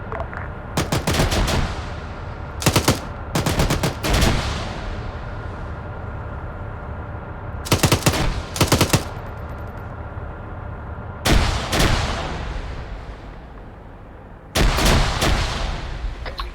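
Grenade machine gun fire during a milsim operation comes as loud, sharp bursts of rapid reports, several clusters spaced a few seconds apart, each ringing out and decaying over outdoor background.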